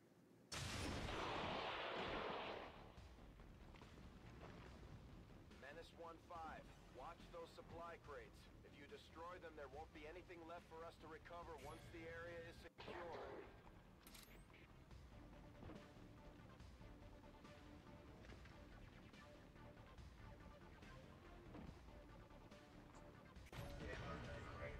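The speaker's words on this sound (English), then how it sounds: "That was a pretty impressive explosion." An explosion in XCOM 2 opens with a loud crashing blast that decays into rumbling debris, followed by quieter game sounds while someone talks over the scene.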